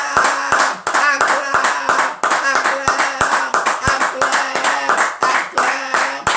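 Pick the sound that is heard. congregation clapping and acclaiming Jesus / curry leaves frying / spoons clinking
congregation clapping and acclaiming Jesus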